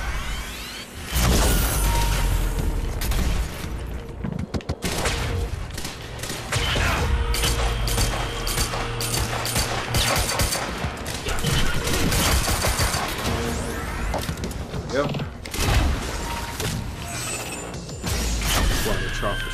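Pistol fire in the Quantum Break video game, repeated sharp loud shots in bursts amid crashes, whooshes and mechanical effects, with occasional talk under the action.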